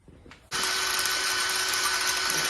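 A power drill bores a hole through bike handlebars while an engine kit is assembled, starting after a short quiet moment and then holding a loud, steady, close high-pitched whine to the end.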